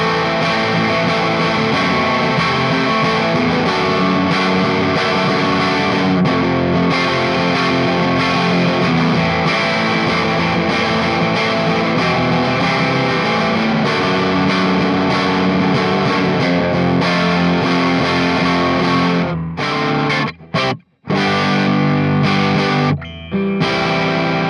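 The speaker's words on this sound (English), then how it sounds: "It's like an AC30 type tone that is a bit driven" A PRS SE CE 24 electric guitar plays through a lightly overdriven AC30-style amp tone, gritty but never fully distorted, strummed and picked continuously.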